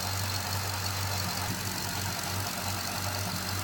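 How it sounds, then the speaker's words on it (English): A car engine idles steadily during an alternator test, a constant low hum with a faint, even drone and no voices over it. "Okay, this is engine running at idle."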